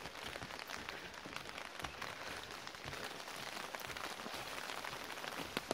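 Steady rain falls on the path down to the valley at Masan's Seowongok park, a dense continuous patter of drops with scattered sharper taps, fairly close and even in loudness, with no talking.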